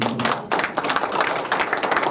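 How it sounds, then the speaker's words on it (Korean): Audience members at a policy forum on population decline and balanced regional development clap together, a brief burst of close, brisk applause lasting a couple of seconds. "박수 한번 쳐주시죠."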